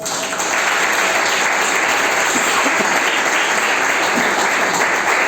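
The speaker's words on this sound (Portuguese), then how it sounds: "Que as palmas exaltem o Senhor." A church congregation claps steadily and loudly throughout, a dense, continuous wash of applause filling the room with no pauses.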